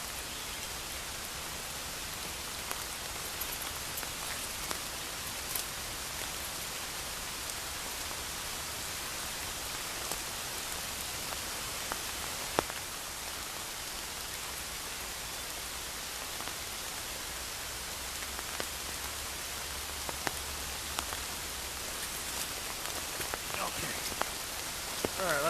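Steady rain falling outdoors in wet conditions, a dense even hiss of drops with scattered louder individual splats close by, continuous throughout with no voices.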